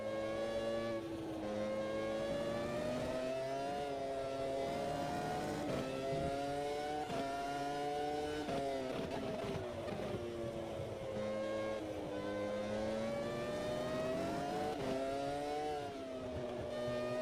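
V10 race car engines screaming around Spa in Automobilista 2, a high harmonic wail rising and falling through gear shifts and lifts, continuous and close, with no talking.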